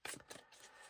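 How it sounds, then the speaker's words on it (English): A deck of tarot cards shuffled by hand, a quick crisp riffle of two or three short papery bursts, close and quiet, with no talk. "let's give these a quick little shuffle"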